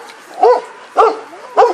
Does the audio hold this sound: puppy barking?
yes